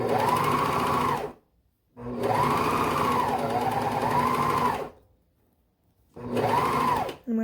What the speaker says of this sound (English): I just serge off